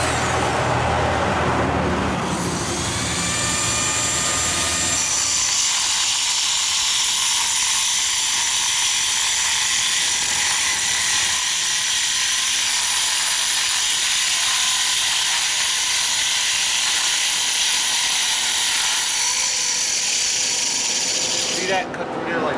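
A saw with a masonry blade cuts through concrete in one loud, continuous grinding whine close to the microphone. It spins up at the start and holds steady for about twenty seconds before stopping.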